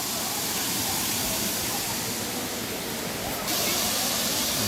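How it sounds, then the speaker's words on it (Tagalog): A waterfall in Jeju on a summer day: a continuous, loud broadband rush of falling water with no break, steady throughout and slightly brighter near the end. "Ayan yung falls."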